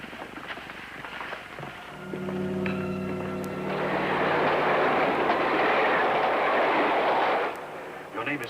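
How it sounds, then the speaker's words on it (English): A train at a German terminal in a 1950s TV drama lets out a long steady whistle, then a loud roaring rush of a passing locomotive and cars that holds for several seconds before cutting off. "There's a train leaving the Schandau terminal at 1:10."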